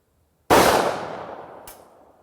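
A single sharp gunshot from a Springfield Armory XD-M Elite 3.8-inch compact 10mm pistol fired outdoors over a chronograph, a sudden loud crack with a decaying tail, followed by a faint second report.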